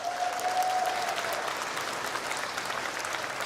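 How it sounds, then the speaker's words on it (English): Crowd applause at the Australian of the Year Awards, a broad, even wash of many hands clapping heard from a distance, sustained and moderately quiet, with no talk over it. "Give him a round of applause."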